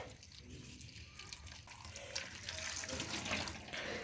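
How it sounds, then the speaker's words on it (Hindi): Boiling water poured over bitter gourds sitting in a kitchen sink, a soft continuous splashing trickle, faint and close, slowly swelling. "सिंक में रखें और करेले के ऊपर उबलता हुआ पानी डालते जाएं और इसको वॉश कर लें।"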